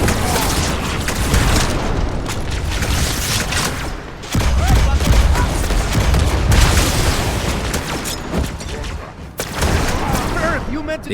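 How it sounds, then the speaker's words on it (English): A grenade blows up in Halo 2 amid sustained heavy gunfire and explosions, with loud booming bursts, one sharp blast near the four-second mark, and voices shouting over the battle. "Grenade!"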